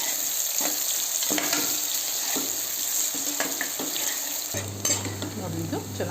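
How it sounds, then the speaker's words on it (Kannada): Lengthwise-sliced onions fry in a pan toward golden brown, a continuous sizzling hiss with repeated stirring scrapes, a low hum joining near the end, heard close with no talking. "ಈರುಳ್ಳಿ ಸ್ವಲ್ಪ ಹೊಂಬಣ್ಣ ಬರುವಾಗ ಚೆನ್ನಾಗಿ ಹುರ್ಕೋಬೇಕು"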